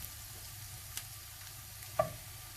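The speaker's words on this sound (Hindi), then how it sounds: "इसमें मैं डालूंगी ये स्पाइसेस। इसको हम तकरीबन 1 मिनट के लिए अच्छे से सौटे होने देंगे।" Onions and spices sautéing in a pan for bhindi do pyaza, a soft continuous sizzle broken by a couple of light utensil taps, one sharper clink near the end, close and with no talking.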